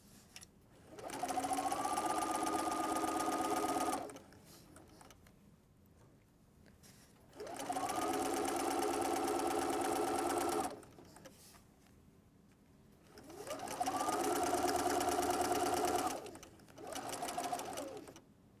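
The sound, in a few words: sewing machine sewing fabric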